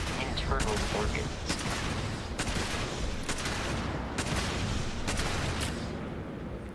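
Gunfire in the video game Starfield: a run of sharp shots and short bursts, roughly seven in all, irregularly spaced over a steady noisy background.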